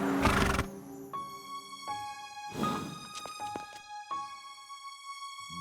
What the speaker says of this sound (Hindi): देखो, बंटी ने घोड़े को टक्कर मारी।